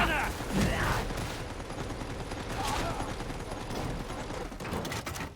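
Gunfire rattles through a Warhammer 40k Darktide battle, continuous fusillades and automatic bursts layered with combat noise, loud and close, with occasional voices mixed in.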